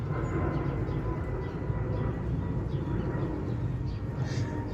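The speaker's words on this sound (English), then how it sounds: "Again, with the fucking airplanes." An airplane passes overhead outdoors as a steady, broad low roar that holds evenly throughout, fairly loud and distant-sounding with no speech.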